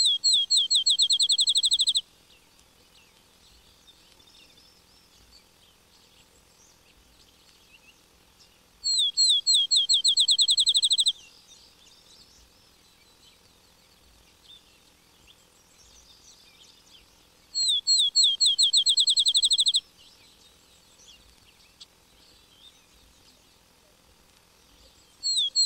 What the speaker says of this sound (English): Field sparrow prefers bushy pastures and sings its clear double trill from topmost branch of some low bush.